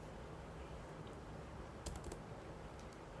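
Computer keyboard typing of C++ code in brief bursts of clicks, with a short cluster of louder keystrokes in the middle, set against a steady background hiss.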